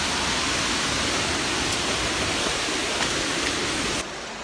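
The Ouzoud waterfall in Morocco roars as a dense, unbroken rush of falling water, loud and close, then drops slightly in level near the end.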